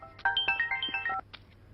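A melodic phone ringtone plays a quick run of bright electronic notes for about a second, then stops, with quiet room hum behind.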